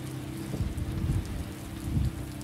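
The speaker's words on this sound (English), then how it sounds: "Thought it never rained in California." Steady rain falls in California, a constant hiss with a low rumble swelling twice beneath it, moderately quiet, with no voices.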